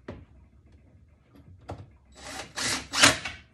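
A screw is driven in while a leaking reverse osmosis faucet is being fixed: a few faint taps and handling knocks, then short bursts of grinding, scraping driver noise, close and alone.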